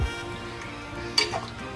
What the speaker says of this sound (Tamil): நல்லா கிளறிட்டு